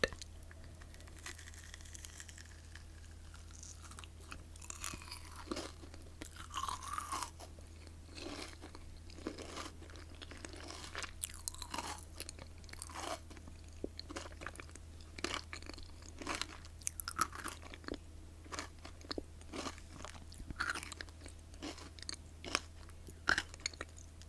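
Crunchy crystal candies bitten and chewed close to the mic, with dense irregular crunches and crackles over a steady low hum, no talking.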